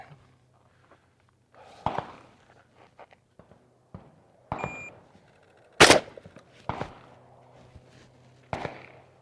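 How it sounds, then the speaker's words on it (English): A shotgun fires Federal Flight Control eight-pellet double-aught buckshot at a range target, several sharp, loud blasts spaced a second or two apart, with faint shuffling and handling sounds in between. "shotgun, it's Federal Flight Control 8-pellet double-aught buck"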